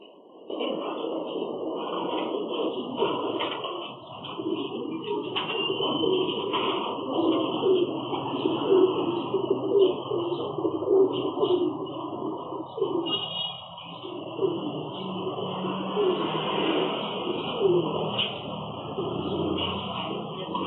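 A bird, apparently a pigeon or dove, coos repeatedly in steady low calls over about twenty seconds, as picked up by a CCTV camera, with a person talking through much of it.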